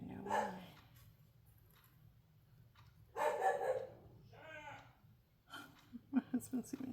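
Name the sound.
dogs barking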